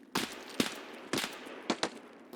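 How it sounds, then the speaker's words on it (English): Gunfire in a video game, five or six sharp shots in an irregular burst, moderately loud with no talk over them. "2 shots coming our way from"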